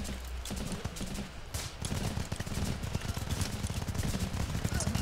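Bursts of M16 rifle fire in the top-down war game Running with Rifles, rapid clustered shots rattling repeatedly through a busy, noisy firefight, growing denser toward the end.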